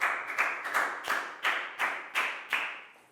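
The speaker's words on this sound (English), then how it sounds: "Big round of applause for Nadia." A primary school class of Year 4 pupils clapping in a health lesson, a series of about eight rhythmic, evenly spaced bursts of claps, moderately close with no talking.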